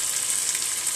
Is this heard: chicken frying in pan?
yes